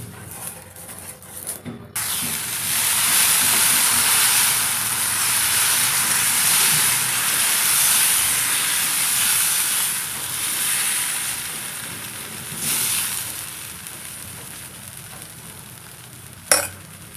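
Oats and chickpea dosa batter sizzling in a thin film of oil on a hot pan, a steady loud hiss that holds for many seconds and fades slightly, with a brief clatter near the end.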